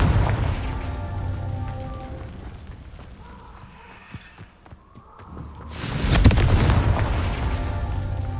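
A Confringo fire spell blasts in Hogwarts Legacy, with a loud explosive burst early, a quieter stretch, then a second heavy blast near the end, alone without talk.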